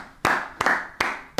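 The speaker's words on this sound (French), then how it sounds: "Donc, on va s'applaudir." Four sharp, evenly spaced hand claps ring out close by, each with a short bright decay, suggesting a couple of people clapping together during an interview.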